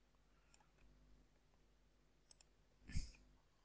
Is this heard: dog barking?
no